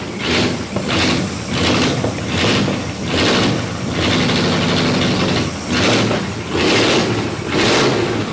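A classic car engine running rich with its carburetor out of adjustment, idling loudly and close with a steady low drone that swells and dips in a regular surge about once a second.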